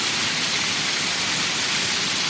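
Heavy monsoon rain pours over a waterlogged farm field with water flowing off the land, a dense, unbroken roaring hiss close by and without speech.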